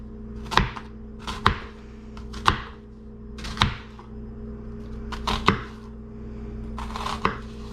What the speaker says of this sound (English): Now we're going to slice these up.